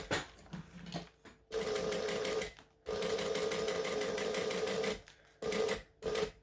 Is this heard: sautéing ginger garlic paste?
no